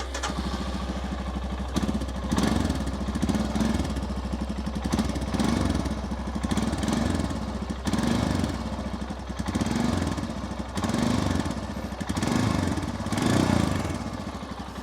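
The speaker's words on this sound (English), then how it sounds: "just listen to the exhaust note of this motorcycle" A 2022 Royal Enfield Scram 411 single-cylinder motorcycle idling nearby, its exhaust thumping in a deep, uneven rhythm with periodic swells in revs.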